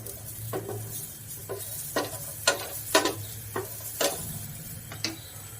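Chickpeas roasting with chili flakes in a pan on a gas stove, with a soft steady sizzle and a run of scattered light ticks and scrapes as they are stirred.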